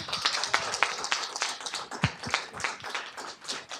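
Audience applause closing a keynote Q&A, light scattered clapping with irregular sharp claps from a modest room crowd, moderately quiet and sustained without talk.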